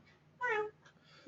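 A single short cat meow, rising then falling, is heard once at moderate volume over a quiet phone-call line.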